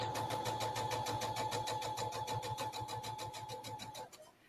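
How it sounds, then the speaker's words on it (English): An older sewing machine, a featherweight-style model, runs steadily at close range with a fast regular mechanical clatter and a steady hum, then slows and stops near the end. "I love the sound of a sewing machine, especially an older,"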